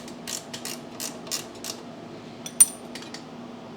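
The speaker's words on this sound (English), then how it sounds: "So I'm going to use one of these ratcheting wrenches." Ratcheting wrench clicking on 10mm bolts of a Briggs & Stratton Vanguard 18 HP engine carburetor, short bursts of close, quiet ratchet clicks repeating in quick strokes with a sharper metallic tap near the end.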